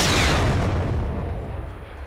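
Sniper rifle shots in a Fortnite shootout: a loud, booming gunfire blast that decays into a long rumbling echo, close and alone, with no talk over it.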